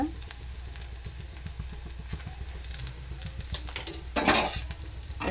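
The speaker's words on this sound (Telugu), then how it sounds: "కొంచెం ఆయిల్ అయితే వేసేస్తున్నాను పైన" A rice flour breakfast snack frying in a little oil gives a soft, close crackling sizzle with faint scraping taps, swelling into a brief louder hiss near the end.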